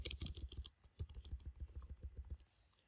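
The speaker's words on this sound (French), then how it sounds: "je vais juste taper la commande" Quick typing on a computer keyboard while entering a command on Huawei network equipment, a close run of crisp key clicks in uneven rhythm, quiet, ending in a brief pause.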